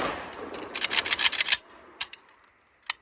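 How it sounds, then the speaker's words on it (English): An AK rifle fires a fast burst of loud, sharp shots at an outdoor range in Vietnam, the cracks tumbling together into a rapid string, then a few isolated shots and echoes trailing off into near-silence. "I'm gonna put the last round through."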